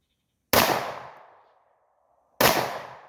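Two loud, sharp gunshots from a Draco and a Glock at a shooting range, about two seconds apart, each with a short decaying echo, close and isolated.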